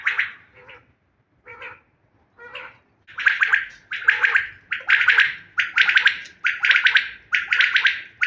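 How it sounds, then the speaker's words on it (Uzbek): Birds call in repeated bright, scratchy bursts, sparse at first and then coming quickly one after another, close and fairly loud. "Jonivorlar hammasi sayrayapti."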